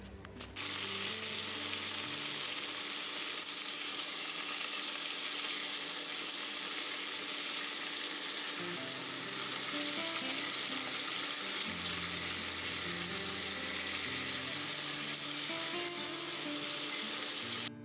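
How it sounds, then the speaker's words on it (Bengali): Whole chicken pieces frying in a hot pan of oil for soup, giving a steady loud sizzle that fills nearly eighteen seconds with no talking, after a brief quieter start. "এই গোটা চিকেনগুলোকে আমি কিন্তু সুন্দর করে একটু ফ্রাই করে নেব"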